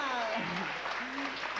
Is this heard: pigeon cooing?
no